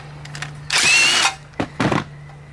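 A power tool whirring as it backs bolts out of an engine mount on a Coleman KT196 go-kart fitted with a Predator 301 engine: one loud close burst, then two short quicker bursts.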